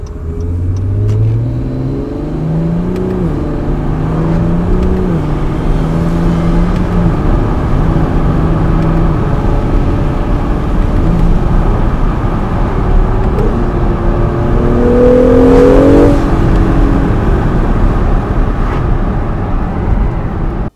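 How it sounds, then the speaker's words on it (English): Twin turbo V6 supercar pulling through its gears, a steady loud engine drone with rising tones at each shift and road noise beneath, heard from inside the car. "see how beautiful and glorious this twin turbo V6 sounds"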